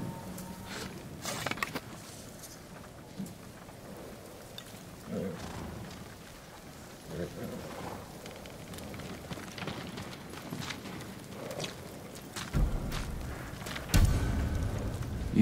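Samurai horses' hooves clip-clopping in the game Ghost of Tsushima: faint, irregular hoof thuds over a low ambient bed, with a heavier rumble swelling near the end.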